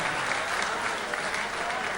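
Applause from an audience at a mushaira poetry gathering, a dense continuous wash of clapping throughout, fairly distant and steady.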